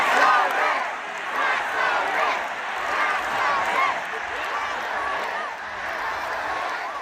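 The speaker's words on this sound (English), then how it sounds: "the crowd didn't hold back" A big political rally crowd for Zohran Mamdani roars and chants in a dense, continuous wash of many voices, loud and steady throughout with no single speaker standing out.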